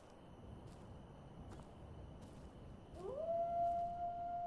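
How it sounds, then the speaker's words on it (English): A dog-like creature in the sci-fi game Space Engineers lets out a single long, rising howl that holds steady, heard at a distance over a low ambient hum with no talking. "I guess there's another dog out there."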